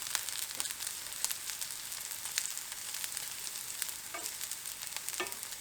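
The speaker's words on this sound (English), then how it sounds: "We can add our broccoli back into this pan." Broccoli fries in a skillet with shallot, garlic and chilli, giving a soft continuous sizzle with scattered crackles and pops, plus a few scraping stirs of the pan; close but fairly quiet, no talking.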